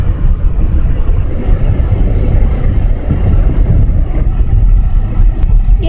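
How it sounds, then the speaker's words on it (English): A car on the road, heard from inside as a steady, loud low rumble of engine and road noise that fills the whole stretch without pause, with no clear voices over it. "We're still driving."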